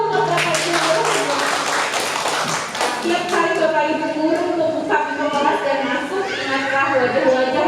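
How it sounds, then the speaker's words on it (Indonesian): Audience clapping for teachers at a school gathering, a dense burst of handclaps that thins into scattered taps while a voice talks over it. "tepuk tangan dulu untuk Bapak Ibu guru"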